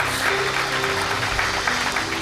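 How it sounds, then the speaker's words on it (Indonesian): Church congregation clapping for Jesus during an Indonesian sermon, a dense, steady wash of applause filling the room, fairly loud and continuous under a faint hum, with no voice on top. "Tepuk tangan dong buat Tuhan Yesus"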